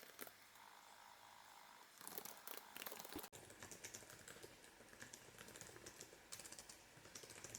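Fast clicking of keys on a computer keyboard while writing a book, a close, quiet, irregular patter of keystrokes running nearly nonstop with brief pauses.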